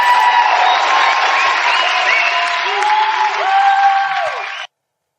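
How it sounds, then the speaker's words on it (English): A crowd applauds loudly with cheers and whoops rising over the clapping, sustained at high level before cutting off abruptly into silence. "Too much applause there, my guy."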